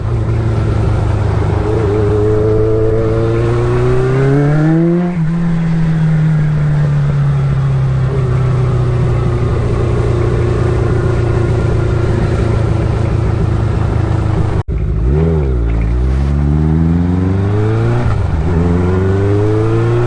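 A Kawasaki GPz550 motorcycle engine roars steadily while being ridden, climbing in pitch through the gears, easing off, then revving hard again after a brief cut, loud and close throughout.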